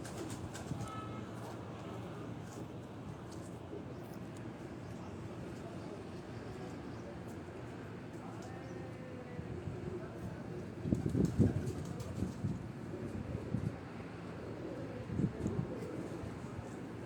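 Pigeons near a rooftop, soft cooing under a continuous low rumble of background noise, with a few louder bursts of activity partway through; someone talks intermittently.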